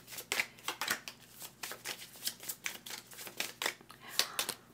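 Tarot cards riffle and snap in quick bursts, a close, soft, papery shuffling repeated in an uneven rhythm, with no voices.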